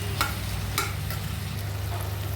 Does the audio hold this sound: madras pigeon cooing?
no